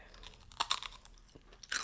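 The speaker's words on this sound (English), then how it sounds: "if you want even more crunch, go in there and get you a dill pickle chip" Crisp crunches of a dill pickle chip being bitten and chewed, served alongside smoked pastrami beef ribs, coming as a few short close bursts with quiet gaps between them.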